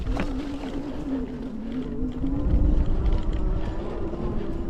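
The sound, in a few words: Vitilan I7 Pro folding electric bike riding through mud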